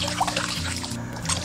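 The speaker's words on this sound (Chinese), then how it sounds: "加入2罐啤酒" Two cans of beer poured into a pot of water for braised pork, with star anise, bay leaves, cinnamon, tsaoko and dried chilies already fried in oil, giving a steady close trickling pour with no talking.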